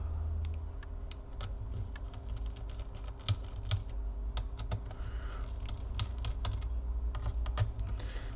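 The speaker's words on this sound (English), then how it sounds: "Now we're gonna use the regular screwdriver to loosen the screws." A screwdriver loosens the screws on an HP EliteBook Folio 9480m laptop, making quiet, close clicks and small scraping ticks in irregular bursts over a faint background hum.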